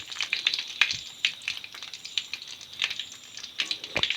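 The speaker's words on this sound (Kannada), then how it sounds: "ಇವಾಗ ಜಜ್ಜಿದ ಬೆಳ್ಳುಳ್ಳಿ 4-5 ಎಸಳು ಹಾಕಬೇಕು. ಸೊ ಅದು ಫ್ರೈ ಆಗ್ತಾ ಬರ್ತಿದೆ ನೋಡಿ." Crushed garlic cloves fry in hot oil for a village-style Tulunad kokum sambar, giving a light, crackling sizzle with scattered sharp pops and spits throughout.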